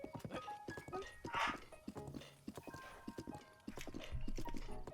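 Horse hooves trotting in Zelda: Breath of the Wild, a steady clip-clop rhythm of close, distinct hoofbeats running throughout alongside game sounds.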